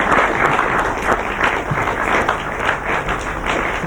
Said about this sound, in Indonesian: kita berikan tepuk tangan untuk ibu-ibu